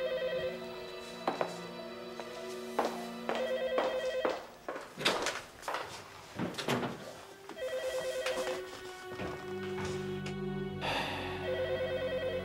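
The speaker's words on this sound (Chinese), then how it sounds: "电话。" A telephone rings in repeated bursts indoors, its tones recurring through the whole stretch with rustling and knocks between rings and no one speaking.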